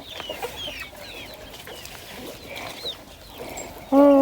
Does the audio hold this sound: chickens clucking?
yes